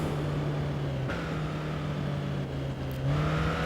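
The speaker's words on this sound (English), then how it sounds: "my big-ass 1600cc engine" Engine of a 1600cc motorcycle racing in the video game Tourist Trophy, a steady loud drone held at one pitch with small shifts as the revs change, without a break for the whole stretch.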